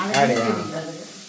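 Ingredients, including ginger, sautéing and being stirred in a pan with a soft sizzle and scraping strokes, fairly close, with a faint voice underneath.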